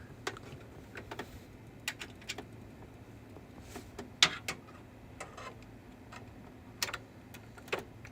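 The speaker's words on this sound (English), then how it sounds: "Gonna want a keyboard so I can type." Scattered key clicks on a computer keyboard while a PC is being set up after a motherboard, CPU and RAM upgrade, quiet and irregular taps spread across the stretch with a low room hum beneath.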